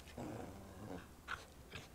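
A small cartoon dog in RWBY Chibi growls low and rumbling, then gives a couple of short sharper yips, close and fairly quiet, with no one speaking.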